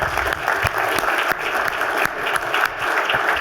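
Audience applause fills a business club event hall as JPMorgan Chase chair and CEO Jamie Dimon walks onto the stage, a dense and steady clapping from the crowd with no talking.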